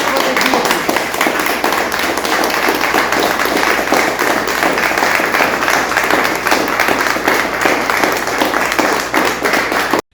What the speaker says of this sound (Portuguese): Então, palmas para a ADVIRP!